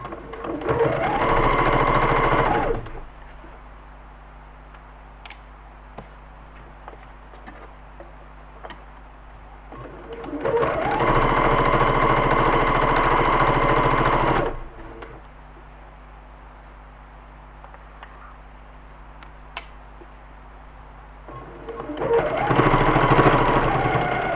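A sewing machine stitches tote bag fabric in three loud bursts of rapid, steady needle rattle, separated by quieter stretches with faint ticking and handling noise.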